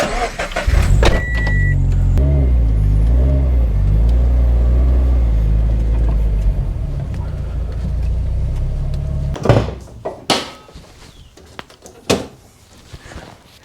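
A Subaru BRZ, still stock, rolls into a garage with a steady low engine rumble that cuts off partway through, followed by a few sharp door thumps and clicks.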